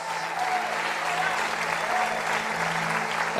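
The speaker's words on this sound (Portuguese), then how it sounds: "Vamos aplaudir o Senhor Jesus." A church congregation applauds Jesus during a Portuguese-language worship service, steady broad clapping filling the room for a few seconds with a low sustained hum underneath.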